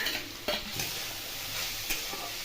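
Grated carrots hit hot ghee with a dense, close sizzle, a constant bright hiss broken by a couple of stirring scrapes.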